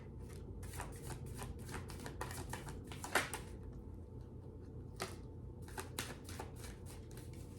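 Tarot cards being shuffled by hand, rapid papery riffles and flicks in quick bursts with brief pauses, close and fairly quiet.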